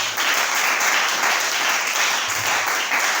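A church congregation applauds the Lord at an evangelical service, steady dense clapping filling the room for the whole stretch with no pause.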